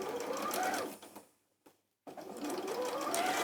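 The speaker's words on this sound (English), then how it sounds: "I'm just going to just sew that with a very, very narrow seam." A domestic sewing machine runs close and steady, stitching a very narrow seam on bulky fabric, pauses briefly to near silence, then starts up again at full speed.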